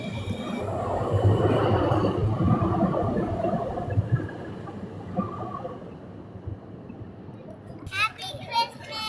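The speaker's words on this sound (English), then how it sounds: "Watch the train." A train rumbles steadily close by and then fades off, with children's voices and chatter audible over it and a few sharp clicks near the end.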